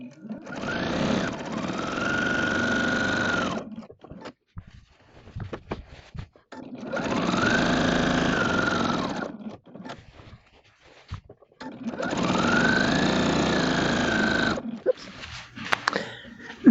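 A sewing machine quilting a potato chip block quilt runs in three long, steady whirring bursts, each a few seconds, separated by quieter pauses with small handling clicks, loud and close.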